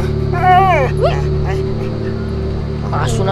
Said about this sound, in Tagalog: Aso na to ah.